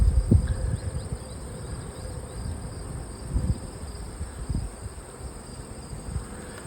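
Honeybees in an open hive colony, with brood frames lifted out, make a steady, dense buzzing drone of many insects, close and continuous, with a few louder bumps near the start.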